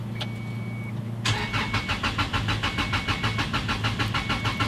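Subaru car engine cranking and trying to start after sitting for four years, a fast rhythmic starter churn that kicks in abruptly and continues steadily and loudly, with no talking.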